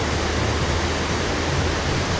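Close, loud and unbroken rushing of the Almatinka mountain river at Medeu near Almaty, a dense hiss of fast water with no talking over it.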